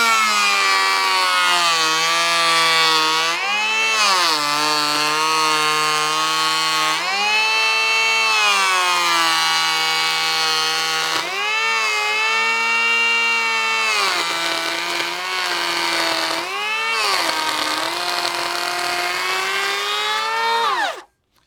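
A DeWalt DCP580 cordless planer on a 5 amp-hour battery makes a 2 millimetre cutting pass. A loud, high, continuous whine rises and dips in pitch as the blade bites and eases, running for about twenty seconds before cutting off.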